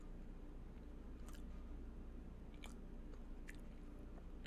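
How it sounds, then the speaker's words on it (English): Dried fruit being chewed close to the mic gives a few soft, moist crunches and squishes spaced out over steady low background hiss, with no talking. "eats dried fruit"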